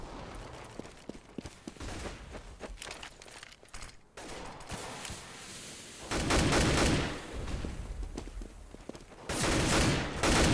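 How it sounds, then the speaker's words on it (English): Dense bursts of AK and M4A4 rifle fire in a Counter-Strike match, with overlapping rapid shots in clustered volleys that swell loudest toward the end, no voices over them. "More M4A4 fire than the AK fire though"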